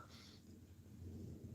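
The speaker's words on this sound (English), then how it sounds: "I just heard thunder." Thunder, a soft low rumble that rolls on and swells slightly toward the end, distant and faint, with no voices over it.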